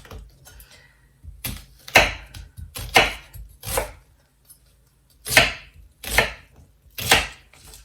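A knife chops through onion on a cutting board in close, sharp strokes, about nine crisp thuds arriving in uneven clusters with short pauses between, loud and alone with no voices.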